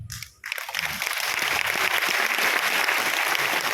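Audience applause at a business presentation swells in after a brief quiet moment and continues as dense, sustained clapping from a crowd, loud and unbroken to the end.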